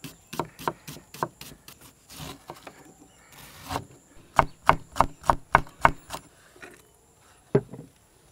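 Onions and green chillies are chopped finely with a knife on a board: sharp, close knocks come in loose bursts, with a quick even run of strikes in the middle and a final lone chop.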